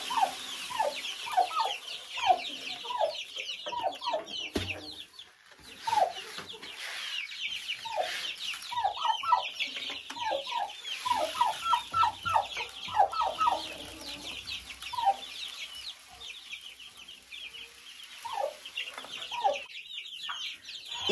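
Chickens cluck and chirp steadily around a feeder set up on bricks, a busy flock of overlapping calls lasting throughout, with no talk.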